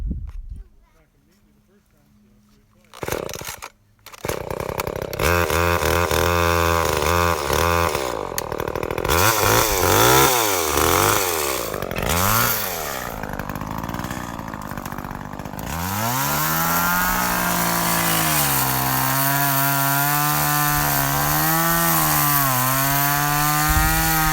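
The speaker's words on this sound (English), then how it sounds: "my unusual way of starting the chainsaw" A chainsaw starts up with a sputter after a brief quiet gap, then runs loud and close, revving and bogging as it cuts through wood, the engine pitch rising and falling, then settling into a steady idle on a high desert homestead.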